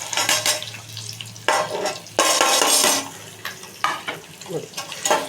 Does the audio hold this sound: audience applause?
no